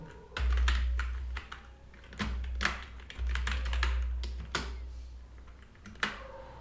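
Typing on a computer keyboard, bursts of quick clicking keystrokes in irregular runs with short pauses, close and fairly clear over a low hum, no speech.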